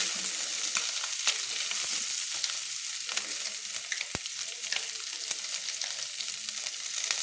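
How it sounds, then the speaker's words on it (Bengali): Small mourola fish sizzle steadily in hot oil, a dense crackling hiss with occasional sharp pops and spatters, close up and continuous. "মোল্লা মাছের ঝাল করার জন্য আমি মাছগুলোকে এইভাবে ভেজে নিচ্ছি"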